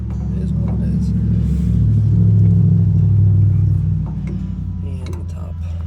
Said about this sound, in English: sorry for the traffic that goes by